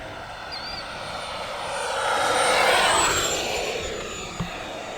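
An F-16 Falcon 80mm electric ducted fan RC jet whooshing past, a rising and fading high-pitched whine that swells to a peak mid-pass and trails off, heard alone over faint outdoor background.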